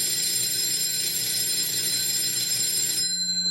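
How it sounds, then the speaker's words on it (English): A 551A PBX station telephone bell rings continuously, a loud, sustained metallic jangle that holds steady for about three seconds and then stops abruptly, with no voices over it. "If you hold the key forward, station 15 will ring continuously."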